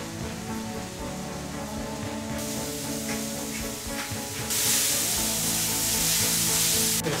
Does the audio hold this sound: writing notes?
no